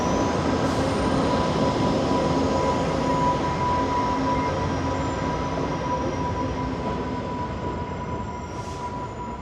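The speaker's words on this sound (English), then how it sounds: "And there's an inbound Via train." A Via Rail passenger train rumbles steadily past at close range, with a continuous heavy roar, a faint high whine and occasional metallic squeals, no voices.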